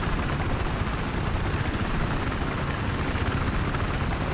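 UH-1Y Venom helicopter in the video game Battlefield 3, a steady, loud, close rotor and turbine roar that holds throughout with no talk over it.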